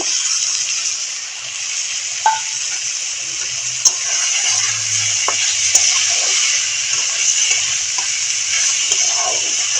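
Small cut pieces of dried fish frying in hot oil, a steady broadband sizzle throughout with a few sharp pops and spatters, fairly loud and close, with no talk.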